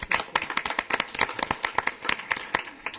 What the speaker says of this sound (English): I'd like to give you, Mr. Smiley, a hand of applause for doing this.